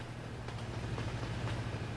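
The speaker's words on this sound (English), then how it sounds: "Oh, train." A train rumbles past at a distance in the Euro Truck Simulator 2 driving game, a low, steady, faint roll lasting the whole moment with no talking.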